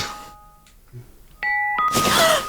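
A morning alarm rings in a bedroom as short, bright electronic tones, a doorbell-like ding repeating close by, with a drowsy voice speaking between them.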